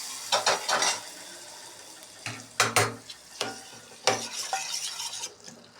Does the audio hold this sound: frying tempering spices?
yes